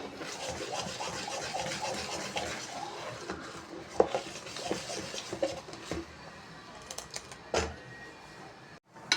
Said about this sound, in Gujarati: તો આ રીતે લીંબુ પણ ઉમેરી દીધું છે અને મિક્સ કરી લઈશું આ રીતે.